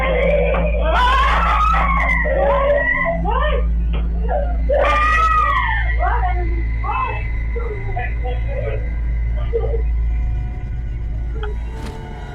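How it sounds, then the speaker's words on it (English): A young girl screams, wails and sobs in distress during a night-time panic attack, loud close cries rising and breaking in repeated bursts over a steady low hum that carries through the whole stretch. "this footage of his daughter having a panic attack in the middle of the night."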